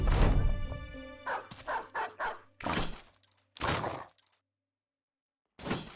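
Dogs barking in the tactical video game Battle Brothers, a series of short, sharp yips and bow-wows in quick bursts over clattering combat noise as they worry at shields, with gaps of silence between.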